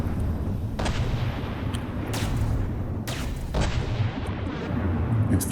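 Heavy cannon fire from a battle in the video game From the Depths, with several loud booming shots spaced a second or so apart over a constant rumbling din.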